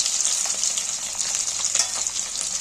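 Hilsa fish pieces frying in oil in a pan give a steady, close, loud sizzle with crackling spits, continuous throughout with no talking.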